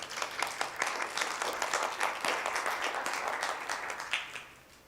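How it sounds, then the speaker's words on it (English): Audience applause at a library holiday-selections event, a steady wash of many hands clapping for several seconds at moderate distance, thinning out toward the end. "Give Diana a round of applause."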